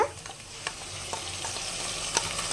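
Onion, chillies, garlic and cumin fry for a fish curry in a continuous crackling sizzle, with light stirring scrapes and small ticks of the spoon on the pan.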